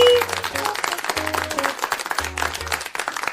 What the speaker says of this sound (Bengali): জোরে হাততালি, জোরে হাততালি